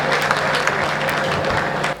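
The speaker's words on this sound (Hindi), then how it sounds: "ताली एक बार ढंग ढंग की बजाओ यार।" Applause from a seated crowd at a comedy-style political speech event, a steady dense clapping wash filling the whole moment at moderate loudness with no pauses.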